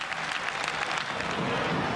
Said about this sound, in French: le public lensois applaudit les Monégasques, surpris à leur entrée sur le terrain pour l'échauffement